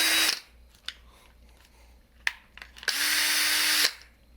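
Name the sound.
Porter Cable 20V cordless drill running on refurbished battery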